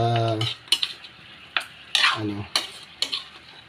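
Utensil stirring and scraping in a pan as food sautés, with several sharp clacks spaced over a soft sizzle; a brief voice sounds at the start.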